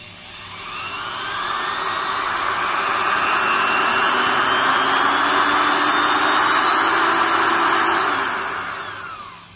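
Milwaukee corded drill running freely, its whine ramping up smoothly in pitch, holding at high speed, then winding back down as the trigger eases off; loud, close and alone.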